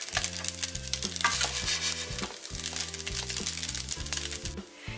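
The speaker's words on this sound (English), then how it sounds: "So it's been cooking on the stove for about 15 minutes at medium heat" Tofu frying over medium heat on a stove: loud continuous sizzle close up, with a stirring or scraping texture and a steady hum beneath, no voices.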